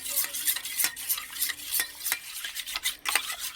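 Eggs beaten with salt and ground pepper in a bowl for an egg and vegetable paratha: a fork or whisk clicks rapidly and rhythmically against the bowl, close and fairly loud, with no voices.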